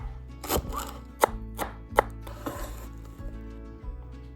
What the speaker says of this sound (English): let's chop up about 3 stalks of green onion